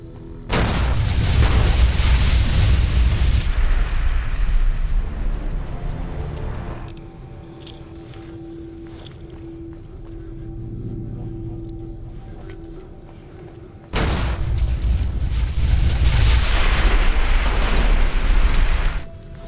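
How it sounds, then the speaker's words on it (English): Grenade explosions in the video game Fallout: New Vegas: a loud, sustained booming blast, a quieter rumbling lull with a low hum, then a second heavy explosion, close and alone. "Grenade!"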